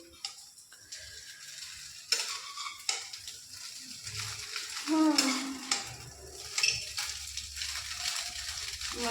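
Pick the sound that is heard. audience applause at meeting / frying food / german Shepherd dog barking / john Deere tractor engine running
frying food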